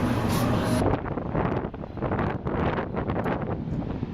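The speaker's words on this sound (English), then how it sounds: "Really windy." Strong wind at Bondi Beach, Sydney, buffets the microphone in a loud, steady roar with gusty swells, nothing else standing out.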